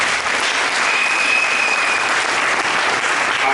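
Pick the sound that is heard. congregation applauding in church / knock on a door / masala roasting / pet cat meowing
congregation applauding in church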